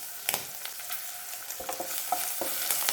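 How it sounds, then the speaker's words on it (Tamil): Garlic, green chilli and curry leaves fry gently in oil, giving a soft, continuous sizzle with a few light stirring clicks, close but quiet, and no voices. "இந்த எண்ணெயில் கொஞ்சம் லைட்டாக ஃப்ரை ஆகட்டும்"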